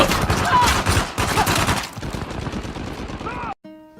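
Pistol gunfire in the Uncharted 4 multiplayer video game, heard as loud, dense volleys of rapid shots for a few seconds before cutting to near silence.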